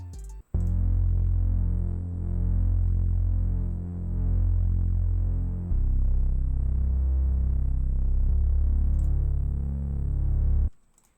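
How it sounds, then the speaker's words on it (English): Omnisphere's Love bass synth patch with reverb and EQ, a deep sustained throbbing bass tone in a Detroit-style melody, loud and alone, holding long notes that shift pitch a few times over about ten seconds. "And then we got a bass from Omnisphere. It's the Love bass"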